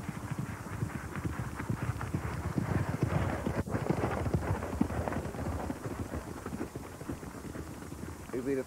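A racehorse gallops up an all-weather gallop at the 1995 Imperial Cup, its rapid drumming hoofbeats steady and close throughout, under continuous race commentary and crowd noise.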